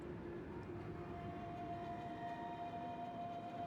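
Trains run steadily in the factory-building game Factorio, giving a soft continuous rumble with a faint sustained tone above it, quiet and unbroken throughout.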